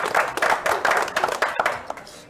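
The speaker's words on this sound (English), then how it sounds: "Please give a round of applause for Johnny Lou." Scattered audience clapping at a poker final table, a brief burst of individual hand claps of moderate loudness that thins out toward the end.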